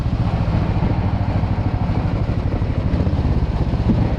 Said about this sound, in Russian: Ездят машины.